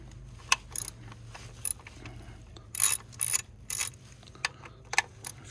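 A hand ratchet fitted with a Torx T30 bit loosens bolts during a spark plug and coil replacement, giving short bursts of quick metallic clicking separated by pauses, close and fairly quiet.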